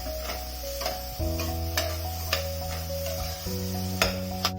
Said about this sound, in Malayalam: ഇനി ഇതെല്ലാം കൂടി ചേർത്ത് നമുക്ക് നല്ലതുപോലെ ഒന്ന് ഇളക്കി ചേർക്കാം